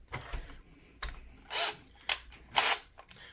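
A power drill unscrewing screws from an Allen and Heath ZED10/FX mixer whirs in several short bursts, each a couple of brief whines with small clicks between, close by and fairly loud.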